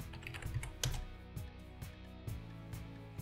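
Password being typed on a computer keyboard, a run of soft, irregular key clicks with a few heavier taps, close and steady, with no talking.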